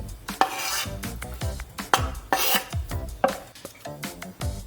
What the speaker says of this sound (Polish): Suszone pomidory z zalewy również kroimy na kawałki i przekładamy na patelnię.